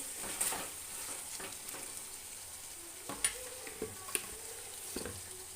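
Green chillies stirred into a frying cluster beans curry in a pan, with a steady soft sizzle and a few brief scraping knocks from stirring, close by and fairly quiet.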